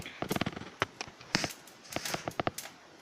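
Spices dry-roasting in a pan for homemade mango pickle crackle and pop in sharp, irregular bursts, close and fairly quiet, with the snaps clustering in quick runs.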